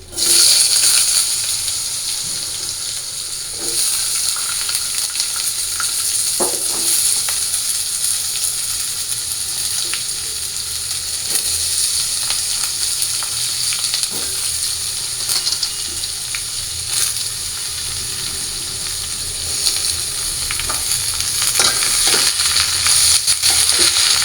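Vegetables sizzling and frying steadily in a pan with fried spices, being cooked as a Monday offering to Lord Bholanath, a continuous bright hiss with occasional crackles and pops throughout, with no talking.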